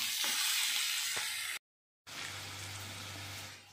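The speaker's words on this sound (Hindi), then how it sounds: "प्याज जो है सो गोल्डन ब्राउन हो चुका है, और इसी में मैं मसाले को ऐड कर देती हूँ" Golden-brown onions sizzle and fry in a pan as spices are added, giving a steady close hiss that breaks off briefly and then returns with a low hum underneath.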